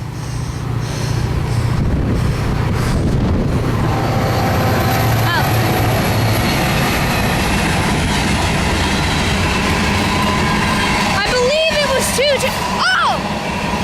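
A freight train with empty intermodal cars rolls past close by, a loud continuous rumble with clattering wheels and a few high squeals toward the end.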